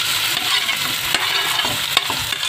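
Grated radish bhujiya hits hot oil with garlic and asafoetida, sizzling steadily while a spoon stirs and scrapes the pan in irregular close clatters.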